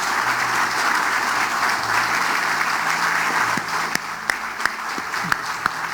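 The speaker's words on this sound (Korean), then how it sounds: "큰 박수로" Loud, sustained applause fills a church service hall, a dense wash of clapping from the congregation that runs throughout, with a few sharper individual claps standing out near the end.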